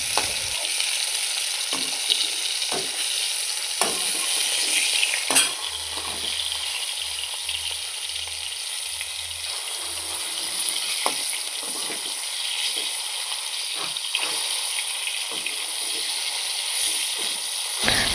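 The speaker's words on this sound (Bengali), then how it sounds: "এখানে দেখতে পাচ্ছ মাছগুলো ভালো করে কষে নিচ্ছি।" Fish frying in a pan with ginger, chili and garlic paste makes a steady, fairly soft sizzle, with occasional light utensil taps and stirring scrapes scattered through it and no voices.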